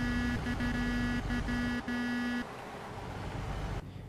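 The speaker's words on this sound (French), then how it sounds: "les klaxons sont totalement pourris" Truck horn in the American Truck Simulator video game, a thin, buzzy tone blown in a series of short and longer honks over about two and a half seconds, loud and close, then a steady engine-like drone carries on alone.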